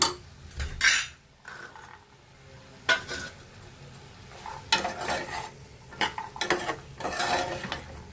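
Cooked green peas go into potatoes and capsicum frying in a pan, heard as repeated close scraping and stirring strokes with metal clinks over a soft sizzle.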